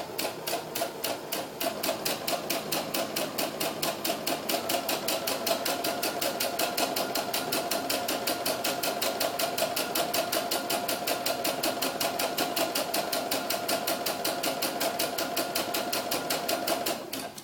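A sewing machine runs a steady, continuous stitch close by, with a fast, even mechanical chatter that lasts throughout while sewing a row of gathers on a historical doll ball gown.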